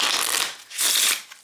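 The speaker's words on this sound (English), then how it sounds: "Let me show you how the pocket one shuffles now." A small pocket oracle card deck shuffled up close: two quick riffling bursts of crisp paper flutter with a short gap between them.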